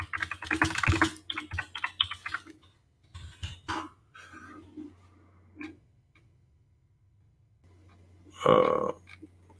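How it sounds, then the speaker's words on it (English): Keys clatter in bursts on a computer keyboard, quick uneven clusters of taps with short pauses between, close and fairly quiet, with a louder thump near the end and a low steady hum underneath. "Let me just type that in."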